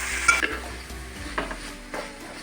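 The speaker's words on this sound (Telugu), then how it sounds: "ఇది వేసుకొని కాలీఫ్లవర్ బాగా ఫ్రై చేసుకోండి. మీడియం ఫ్లేమ్లోనే ఫ్రై చేసుకోవాలండి" Cauliflower frying on a medium flame in a pan, a soft sizzle broken by a few stirring scrapes and light clinks over a short stretch, no voices.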